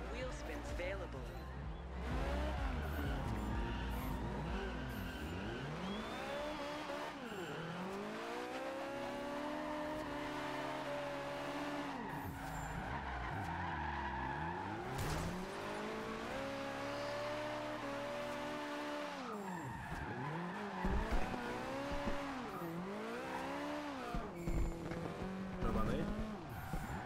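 Game car in Forza Horizon 2 drifting, with a revving engine that rises and falls in repeated sweeps and tires squealing through slides, steady and loud over a long stretch, someone talking over it throughout.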